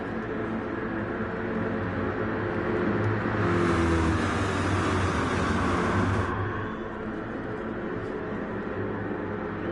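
A NASCAR GT race car's engine swells to a loud rev and then settles back at a green-flag restart in a racing game, a steady roaring drone running over continuous engine rumble with no talk.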